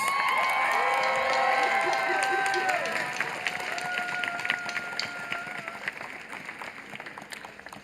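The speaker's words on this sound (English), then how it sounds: "Give them a round of applause, please" High school graduation audience at Montclair's 2023 ceremony breaking into applause with cheers and whoops, loud at first with voices rising above the clapping, then gradually thinning and fading.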